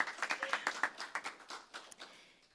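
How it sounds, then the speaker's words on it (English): A small spiritual-center congregation claps for volunteers: a few people's distinct, separate claps at first, thinning and fading over about two seconds, fairly quiet and without voices. "please a round of applause"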